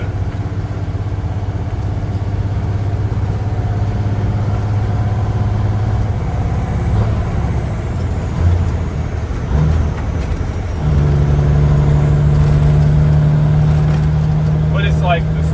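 A 1985 Peterbilt 362 cabover truck drives with a loud, steady low engine drone heard from inside the cab, its pitch shifting slightly partway through, with faint rattles over it.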